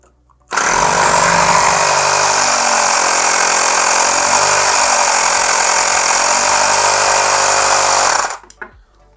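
A small Vorel 82100 12-volt car air compressor runs steadily, a loud continuous motorized buzz and whine that starts abruptly and cuts off after about eight seconds.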